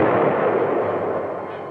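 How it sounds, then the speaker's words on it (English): Heavy battlefield gunfire from enemy tanks, a dense, loud rumbling barrage of blasts that blurs into one continuous roar without a break. "the tanks meet heavy fire from enemy tanks"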